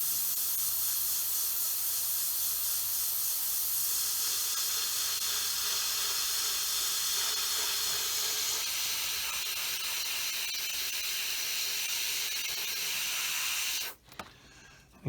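An airbrush sprays paint onto a Bf 109E scale model in a continuous bright hiss. The spray runs steadily and close for about fourteen seconds, then cuts off abruptly.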